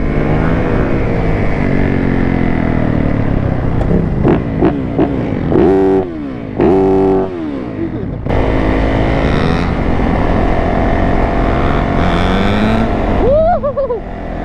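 A 250cc supermoto engine revs hard and loud nearby, rising and falling in pitch through gear shifts, with voices faintly mixed in.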